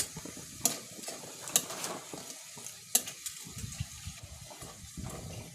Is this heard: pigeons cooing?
no